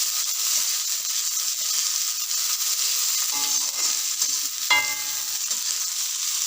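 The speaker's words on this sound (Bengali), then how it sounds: "টুকরো করে রাখা ক্যাপসিকাম, এইভাবে কেটে রাখা পেঁয়াজ দিয়ে এটাকে ভালো করে এখন নাড়তে হবে।" Chopped capsicum and onion fry in oil in a pan for chilli chicken. A loud, steady sizzle runs throughout, broken by a few scraping stirs near the end, with no talking.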